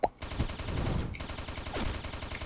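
Automatic gunfire in the online shooter Combat Arms, with a sharp opening shot followed by a rapid rattling burst of rounds that continues steadily and sounds near.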